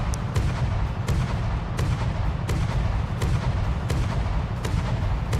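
Heavy gun shots from a From the Depths battle, booming at a steady rhythm about every half second to second over a continuous dense low rumble, loud and close with no talking.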